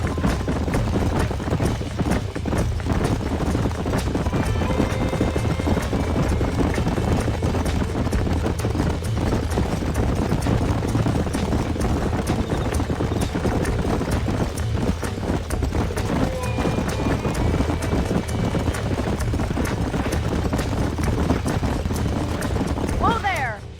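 Steady clip-clop of galloping horse hooves in Red Dead Redemption runs throughout, loud and continuous, with a busy game soundtrack layered over it.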